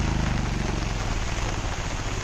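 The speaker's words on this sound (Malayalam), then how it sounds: "നല്ല മഴയും." Heavy rain pours steadily onto surfaces outdoors, a dense continuous hiss of countless drops that stays loud and close throughout without any talk.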